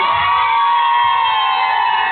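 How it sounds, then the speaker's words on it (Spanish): Children at a birthday party cheer and shout with joy in a loud, continuous crowd roar that fills the whole moment without a break. "Ok, señorita, ¿damos grito de alegría?"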